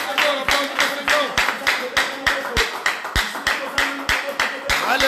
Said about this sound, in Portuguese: Aplaude o Senhor.